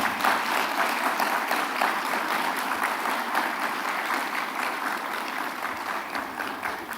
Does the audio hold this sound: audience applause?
yes